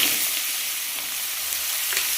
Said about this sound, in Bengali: আর এই যে কালো জিরে দিয়ে দিলাম, আদাটা দিয়ে দিলাম।